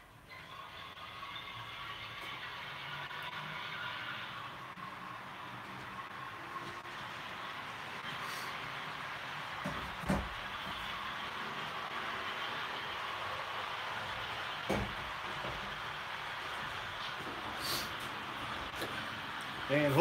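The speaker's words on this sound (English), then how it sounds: "At least have a train running by when everybody's talking a little bit." A model train runs on a layout in a room, giving a steady mechanical rattle and whir with a few louder clicks. People talk quietly in the background.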